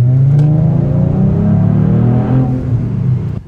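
Kia Stinger GT with a twin-turbo 3.3-liter V6 producing 365 horsepower, revving up close: a loud, deep engine drone whose pitch climbs and holds, then eases off near the end.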